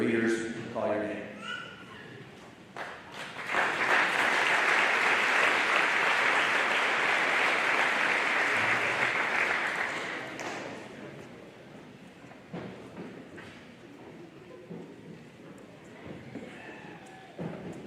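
Spontaneous applause from a crowd at a high school graduation ceremony swells to a dense, sustained roar of clapping in a large hall, then fades back toward quieter room noise with brief speech before and after.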